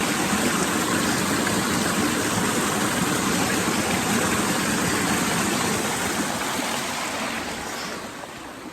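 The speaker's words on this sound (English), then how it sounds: "Cleaning off the eggs." Eggs are washed under running water on a farm on a rainy day, with a loud, steady hiss of flowing water close by that fades slightly toward the end.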